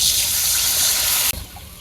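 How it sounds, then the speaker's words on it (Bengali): Water poured into a cooking pan of frying fish in a village kitchen, a loud steady gush that cuts off sharply near the end, leaving a faint lower hiss. "পানি দিয়ে দিলাম"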